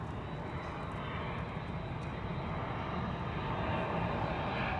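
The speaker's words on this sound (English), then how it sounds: "we got another plane coming over us" A steady, broad engine roar of a plane passing overhead in the dark outdoors at a supercar event, continuous and fairly loud throughout with no talking.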